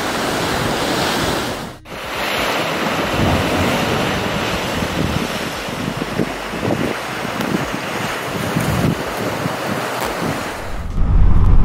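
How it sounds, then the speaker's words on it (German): Strong wind buffets the microphone while surf rolls in on the cold Barents Sea coast, a dense continuous roar of waves and gusts with no voices. "Und es ist recht windig."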